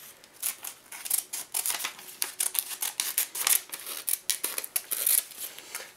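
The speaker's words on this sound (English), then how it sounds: "These scissors are not that great." Scissors snipping through a returned Amazon item's packaging, a rapid series of sharp, close cuts and crinkles repeating across the whole stretch with no talking.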